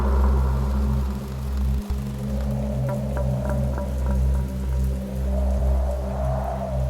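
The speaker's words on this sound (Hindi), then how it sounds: "बारिश अब ज्यादा तेज होने लगी थी।" Steady rain pours down with a constant wash of drops, a low rumbling hum running beneath it and no voices.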